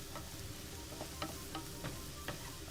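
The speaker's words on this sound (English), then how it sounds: "I'm sauteing the eggplants" Eggplant and eggs saute in a pan, a faint, steady frying hiss with several light stirring taps from a utensil at irregular intervals, quiet and without talk.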